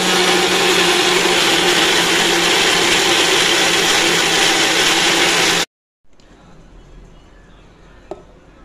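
Mixer grinder jar blending cut apples for apple juice, a loud steady motor whir lasting about five and a half seconds before cutting off abruptly, followed by quiet handling noise and a small click.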